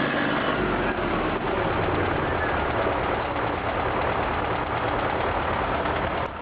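An MTZ tractor engine runs stuck deep in mud, a loud, steady, close diesel drone with rough knocking texture that holds throughout without pause.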